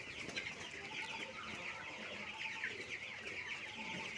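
Many chickens cluck and chatter continuously in a poultry farm, a dense, busy layer of overlapping calls close by.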